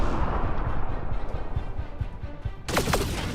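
A grenade blast in the sci-fi shooter Mass Effect: Andromeda, with heavy rumbling booms and crackling gunfire amid combat, followed near the end by a short voice.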